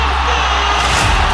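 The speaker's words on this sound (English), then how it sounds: "And this is where the crowd roars!" A basketball crowd roars and cheers in a steady, loud, dense wall of voices, swelling slightly toward the end.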